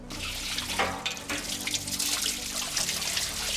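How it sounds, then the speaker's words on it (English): Water pours into a barrel during work on a '67 Pontiac GTO, a continuous gurgling, splashing flow heard close up with a hissing wash over it, steady at moderate volume. "Let's add some water."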